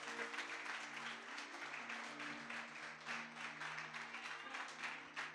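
A church congregation applauds during an evening service, a continuous quiet clapping from many hands spread through the room, with a low sustained musical hum underneath.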